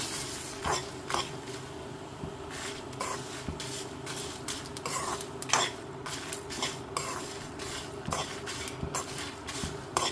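Curry leaves and coriander seeds crackling as they fry in a pan, with a series of sharp, scattered pops and clinks over a soft steady sizzle, fairly close and without talk.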